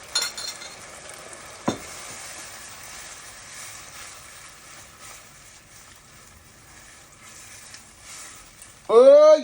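Tinned fish pasta sauce sizzles and is stirred in a pot, a soft steady frying hiss with a sharp clank near the start, a voice talking briefly, and a louder scrape at the end.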